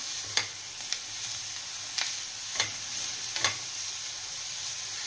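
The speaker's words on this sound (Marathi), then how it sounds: "मीडियम किंवा मंद आचेवर हे परतत राहायचं." A fresh coconut and jaggery filling is stirred in a pan over medium-low heat, with a faint, soft sizzle under five sharp scraping strokes of a spoon against the pan at irregular intervals.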